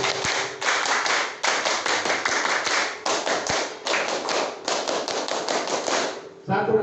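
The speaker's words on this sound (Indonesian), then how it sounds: "2 kali tepuk pramuka." A group of schoolchildren performs the Indonesian scout clap (tepuk pramuka) twice, loud rhythmic volleys of unison hand claps in short bursts with brief pauses, ending in a softer thud.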